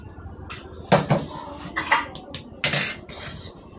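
A metal spoon clinks against dishes and plates, several sharp, close rattles and knocks at irregular intervals, with no talking.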